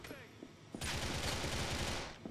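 Grand Theft Auto 4 gunfire crackles in a rapid burst of shots, loud and dense, after a quieter lead-in, with a voice briefly present.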